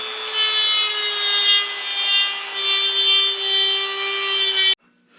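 A Dremel rotary tool grinding and trimming a part for an air cleaner install under a car hood, a loud steady high whine close by that cuts off abruptly near the end.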